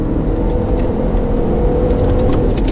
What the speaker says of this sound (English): Let me step on the loud pedal here.